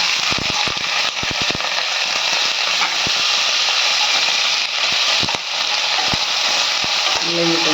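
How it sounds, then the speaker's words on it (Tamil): Radish and garlic fry in a pan for a chutney, giving a steady, close sizzle throughout with a few clicks and scrapes from stirring. "பூண்டு கொஞ்சம் வதங்கினதும் முள்ளங்கி போடுங்க முள்ளங்கி போட்டுக்கோங்க"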